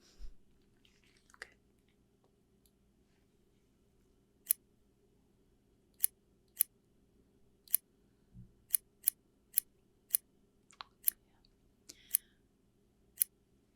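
Scissors snip in a sci-fi medical ASMR roleplay, mimicking a surgical incision during a futuristic microchip implant: about a dozen sharp, close, crisp cuts in an irregular rhythm over a quiet background, with no talking.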